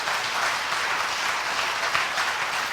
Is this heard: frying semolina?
no